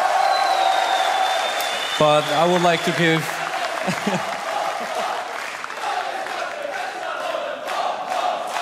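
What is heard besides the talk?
crowd cheering at StarCraft 2 tournament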